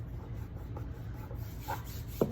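Dry rubbing strokes across the wood of a DIY holiday sign, faint and close, with soft scratchy scuffs and a small sharper tap near the end.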